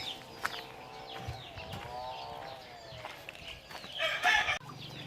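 Chickens inside a coop cluck and crow repeatedly at close range, with scattered calls and a louder burst of squawking toward the end.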